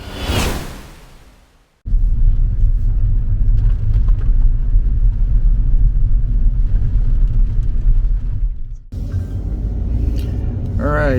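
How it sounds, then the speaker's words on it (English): A 2022 Hyundai Casper 1.0T drives on a city road on the outskirts of Seoul, with a steady, loud rumble of engine and road noise inside the cabin and a brief whoosh of passing air at the start. "Again, I'm driving on a city road just outside, just outskirts of Seoul"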